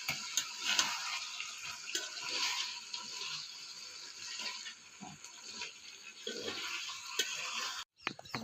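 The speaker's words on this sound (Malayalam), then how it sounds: "ഇനി അരി ഇടാൻ വേണ്ടിയിട്ട് ഞങ്ങൾ വെള്ളം ഒഴിക്കുകയാണ്." Water is poured into a pot for cooking rice, a steady splashing rush with faint ticks, moderately quiet and uninterrupted by talk.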